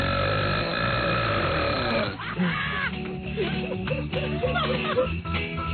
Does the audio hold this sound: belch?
yes